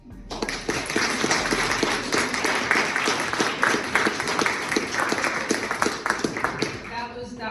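Audience at a writers' center book talk breaking into sustained applause, dense steady clapping from a room of people lasting several seconds before tapering off.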